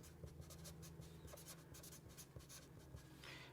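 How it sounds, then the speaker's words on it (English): Pen writing by hand on paper while a financial formula is worked out, a steady close scratching with short strokes and small taps under a constant background hum. "So I'm going to write interest rate"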